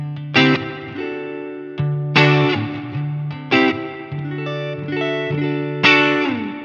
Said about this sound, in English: I'm running into a Fender Twin Reverb in the vibrato channel with a 63 spring reverb just for that luscious, warm, classic Fender spring tone.